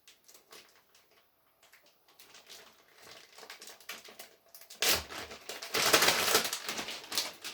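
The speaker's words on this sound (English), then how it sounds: "I smack the bags to loosen it up" A bag of shredded six-cheese Italian blend is smacked and squeezed, making soft crinkling and thumping rustles that grow louder and denser toward the end, close up with no talking.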